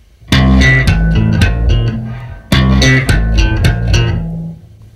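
Slap bass guitar notes are struck straight without any slide: punchy, deep, percussive plucks in two similar phrases, loud, close and alone.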